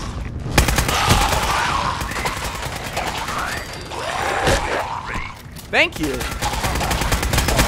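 Automatic weapon fire in Fallout 4's Nuka-World: loud, close bursts of rapid shots with ringing mechanical clanks, and a voice speaks briefly.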